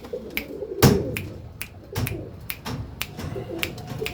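Pigeons from Vizianagaram in Andhra Pradesh, including a female, coo softly at close range, broken by sharp taps and handling clicks, with no voices.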